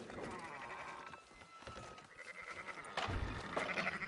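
Sheep bleat repeatedly in Red Dead Redemption 2, a few calls rising over a busy game soundscape with faint background voices.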